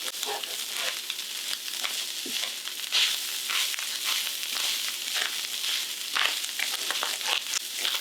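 Garlic sautéing in a pan for a keto Korean beef bowl, a steady sizzle and crackle running the whole time, with occasional stirring scrapes breaking through. No voices.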